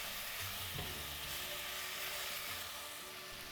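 Pork from a bak kut teh soup is stir-fried in a hot pan with oyster sauce and dark soy sauce, giving a dense, even hiss and sizzle that holds steady throughout, close up and without speech.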